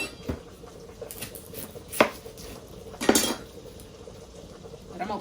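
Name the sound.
chopping onion with a knife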